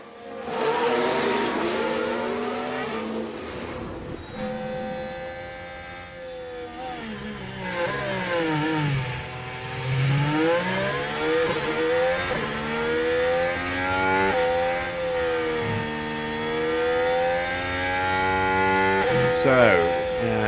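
A Williams Formula 1 car in an F1 Manager 2013 mod race at Monaco, a loud close engine whine rising and falling through gear changes as it passes, with other cars droning behind for about twenty seconds.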